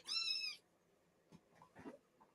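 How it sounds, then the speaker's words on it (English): A cat gives a single clear, high meow up close, followed by faint scattered rustling and small movements in a quiet room. "it's a kitty"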